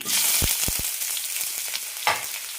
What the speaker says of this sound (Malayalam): പാനിലേക്ക് രണ്ട് ടീസ്പൂൺ എണ്ണ വെച്ചിട്ടുണ്ട് ഇതിലേക്ക് കടുകിടാം സവാള പച്ചമുളക് ഇഞ്ചി